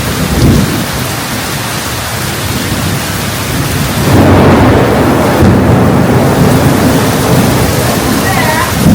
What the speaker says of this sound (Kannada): ಸಿಡ್ಲು ಬೇರೆ ಬೀಳ್ತಾ ಇದ್ದಂಗೆ ಸೌಂಡ್ ಬರ್ತಾ ಇದೆ, ಗುಡುಗು, ಮಿಂಚು, ಮಳೆ ಸಿಕ್ಕಾಪಟ್ಟೆ.